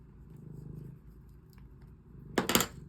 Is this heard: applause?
no